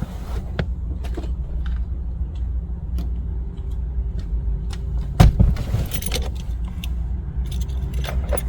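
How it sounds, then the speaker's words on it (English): Key fobs for a 2019-2022 Honda Insight hybrid jangle inside the car, close and loud, with repeated metallic clinks and one sharp knock over a low cabin rumble. "take the new unprogrammed key out of the vehicle and only keep the programmed working key in the vehicle"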